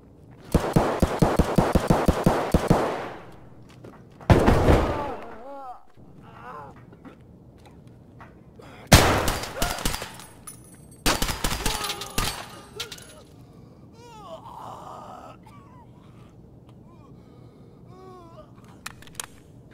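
Automatic gunfire hits the player in the video game Escape From Tarkov, coming as several loud, rapid bursts separated by pauses, with a voice speaking in the quieter gaps.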